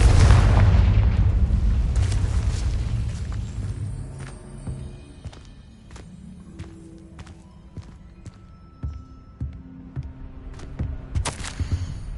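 A Confringo fire spell explodes in the Hogwarts Legacy game, a loud booming blast at the start that fades into rumbling, with scattered sharp pops and smaller bursts following.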